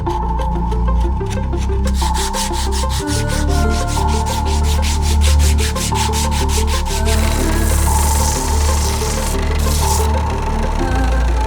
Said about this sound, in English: We've just got to go through and then sand this flat to give it a nice surface area